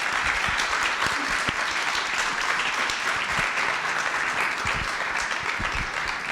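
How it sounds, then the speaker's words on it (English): An audience at a sustainability changemakers showcase gives a steady, sustained round of applause: dense clapping at an even level from start to finish, with no voices above it. "Let's give them a huge round of applause."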